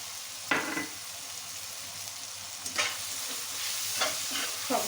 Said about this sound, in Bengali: সবগুলো মিশ্রণ একসাথে ভালো করে কষিয়ে নেব